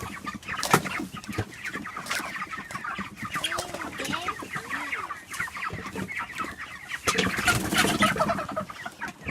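Chickens cluck and squawk busily while being fed sawdust cake and egg food, a dense close flock chatter throughout with a louder burst near the end.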